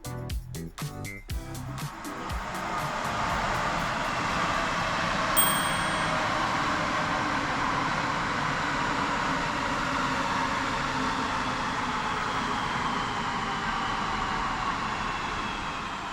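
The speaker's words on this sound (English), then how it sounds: "Here comes my train now." Øresundståg train made up of Swedish X31K electric units pulls into the station. A broad, steady rumble builds after a few sharp knocks at the start and holds loud and close to the end, with a brief ding partway through.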